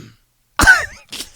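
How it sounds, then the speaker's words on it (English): A single short, raspy throat clearing sounds close and loud after a moment of silence, followed by a brief second rasp. "You go to clear your throat."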